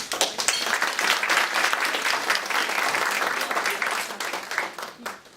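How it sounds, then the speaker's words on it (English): A Chamber of Commerce crowd welcomes the state auditor with applause, a full room clapping hard before the sound starts to thin out at the end. "Please give her a round of applause"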